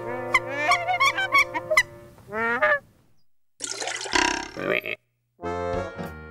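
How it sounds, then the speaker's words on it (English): Nene, the Hawaiian goose, giving a run of loud nasal honks in quick bursts, with a pause and then more honking calls close by, no talking. "The nene, or Hawaiian goose."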